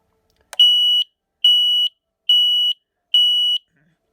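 A smoke alarm from a 2019 collection sounds during a test: a click, then four loud, shrill, evenly spaced beeps of about half a second each, close and alone.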